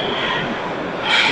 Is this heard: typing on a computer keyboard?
no